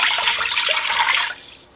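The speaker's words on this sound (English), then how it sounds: "We first have to put in our 4 cups of vegetable broth" Vegetable broth pours into a pot in a loud, close, continuous gush that cuts off abruptly near the end.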